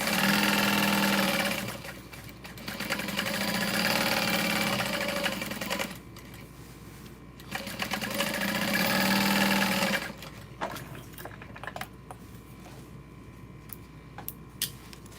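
Sewing machine basting a slip pocket onto the lining of a messenger bag, running in three steady bursts of rapid stitching with short pauses and a quieter whirr and clicks near the end, close and alone with no talking.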